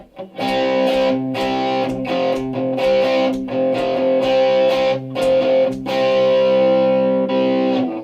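Electric guitar played through a crunchy, mildly overdriven crunch channel on a Boss Katana Air amp, strummed chords ringing out steadily with brief gaps between them, loud and close with no voices.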